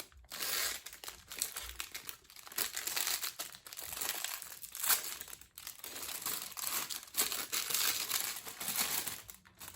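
Close, loud crinkling of a plastic packet holding a reborn doll's pacifier being handled and opened, in irregular bursts of rustling and crackling.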